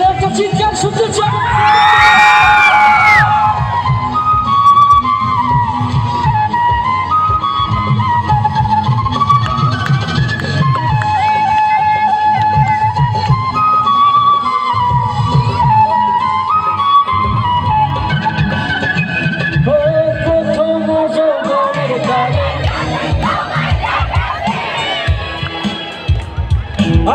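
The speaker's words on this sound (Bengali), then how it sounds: "চিৎকার শুনতে চাই" A concert crowd at a college event shouts and cheers loudly, with a sharp burst of yells early on and then sustained crowd voices and singing.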